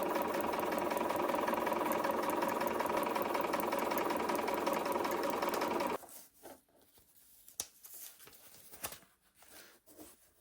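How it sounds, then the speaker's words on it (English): A sewing machine stitches along a line during foundation paper piecing, whirring fast and steady for about six seconds before stopping, followed by soft handling clicks and rustles. "I'm going to flip it over and I'm going to sew along that line."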